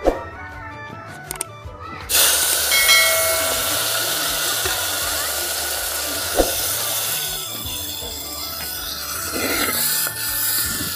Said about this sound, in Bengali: এখন আমি চিংড়ি মাছটা ভাজবো।